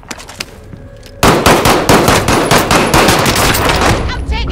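Rapid automatic gunfire in the video game Call of Duty: Warzone, a few scattered shots and then a sudden, loud, dense burst of sustained fire that runs on without a break.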